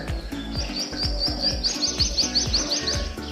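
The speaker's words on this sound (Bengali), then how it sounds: "ডাকছে কোকিল" A koel calls repeatedly in a rising, rhythmic series of clear notes over a busy outdoor background of other chirps and low thumping sounds.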